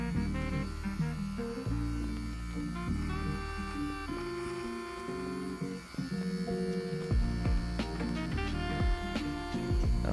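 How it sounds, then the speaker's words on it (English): An electric beard trimmer hums steadily as it trims sideburns in a hotel bathroom, its motor buzz shifting in pitch as the blades move through hair, close and continuous with no talking. "I turn the trimmer on its side to clean up the line at the back of the sideburns"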